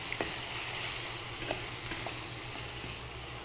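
Ground paste dropped into hot oil tempering, a continuous bright sizzle with a few light taps of a spoon against the pan.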